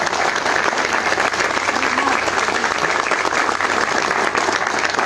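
Steady, dense applause from an audience at an informational assembly, honoring a teacher asked to stand; loud and continuous throughout with no break or talk over it.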